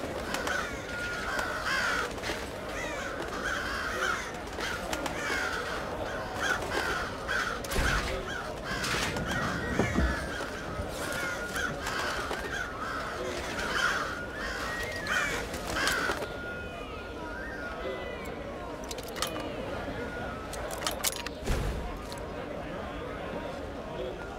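Crows cawing in the stealth game Thief, repeated harsh caws over a busy ambient bed with footstep-like clatter, while someone talks throughout.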